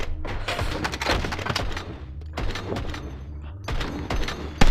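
AK rifle fire in the VR shooter game Hard Bullet: several loud bursts of rapid shots separated by short pauses, close and sharp, with a heavy thump at the end.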